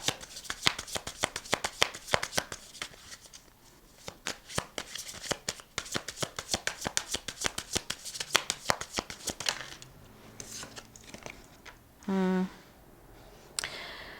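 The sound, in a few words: shuffling and laying out tarot cards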